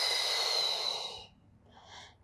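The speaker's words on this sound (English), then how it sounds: "Exhale." A long, steady exhale through the mouth during a twisting Pilates exercise fades into a shorter, softer breath, close and alone.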